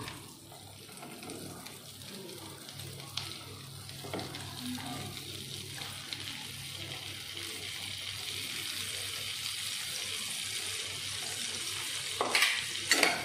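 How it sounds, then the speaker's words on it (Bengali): Big chopped onions lightly frying in a pan, a low continuous sizzle with occasional stirring scrapes that grows slightly louder toward the end, alongside faint running-water noise. "দিয়ে হালকা ভাজবো।"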